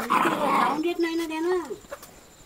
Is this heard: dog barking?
yes